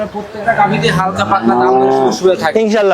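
A dairy cow on a farm lets out a loud, close, drawn-out moo lasting a couple of seconds, with a shorter lowing call near the end.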